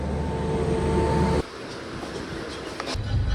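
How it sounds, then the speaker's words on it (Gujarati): A train on a trip to Khodaldham Kagvad and Chotila temples starts rolling, its steady low rumble and faint hum loud at first, then dropping to a softer rattling run with light clatter and rising again at the end. "ફાઇનલી છે ને આપણે ટ્રેન ચાલુ થઈ ગઈ."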